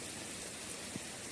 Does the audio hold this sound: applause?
no